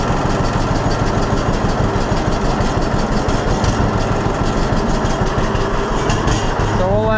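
A John Deere B tractor engine runs steadily at idle, a continuous low chugging drone with a slight knock throughout, close and fairly loud with no break.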